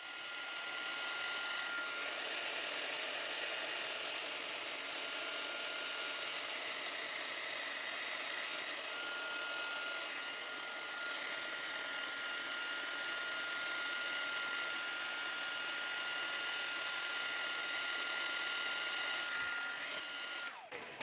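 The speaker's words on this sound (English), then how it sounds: "Now I'm going to bring in my heat tool and melt the embossing powder." A heat embossing tool melting embossing powder on a card of autumn leaves gives off a steady, fairly loud blower whoosh with a thin, constant whine, running unbroken for the whole stretch with no talking.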